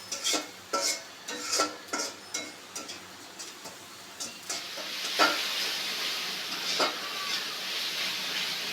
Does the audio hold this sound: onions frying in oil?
yes